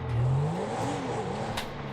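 A tuned Porsche in Grand Theft Auto V with a turbo and loud exhaust revs up, the engine note rising and falling close by in one continuous roar.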